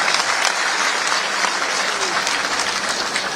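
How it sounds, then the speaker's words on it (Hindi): Dense, steady applause from a large audience at a Bihar foundation day event fills the whole stretch, an even wash of clapping with no pauses and no voices standing out. "ताली बजाओ तो सबके लिए बजाओ"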